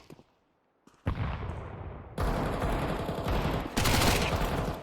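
Pistol gunfire in a Counter-Strike 2 esports match: loud, dense bursts of shots crackle over several seconds after a brief quiet start, growing heavier toward the end.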